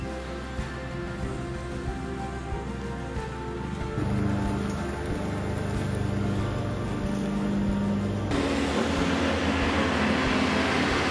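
Steady loud rumbling hum of cars passing on a road beside a square in Worms, Germany, with a lawn mower also running nearby, continuous and building slightly louder partway through, with no talking.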